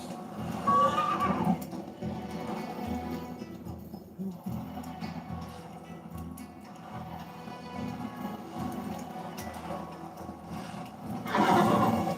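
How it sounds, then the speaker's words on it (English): A white horse in a video game whinnies near the start and again at the end, with faint hoof clip-clop and game ambience filling the quiet stretch between. "That's my white horse."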